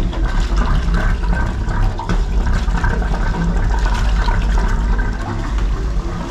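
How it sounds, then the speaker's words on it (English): Cooling water splashes out of a running wooden boat engine, a steady loud gushing and spattering over the low throb of the motor, with no voices. "We're here to see if it's pumping water."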